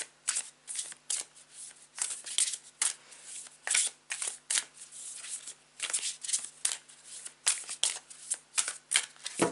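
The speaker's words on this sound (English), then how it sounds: "So I'm gonna grab a couple of cards from this deck and do the same with this one." A deck of tarot cards being shuffled by hand, a quiet, rapid series of crisp riffling bursts repeating in irregular rhythm throughout, close up and alone without talk.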